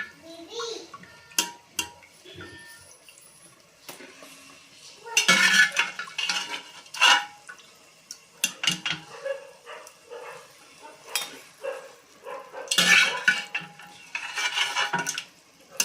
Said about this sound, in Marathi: आता कुकरला जे आपण मटन शिजवलं होतं तर सुरुवातीला आधी आपण ते मटण टाकूया याच्यामध्ये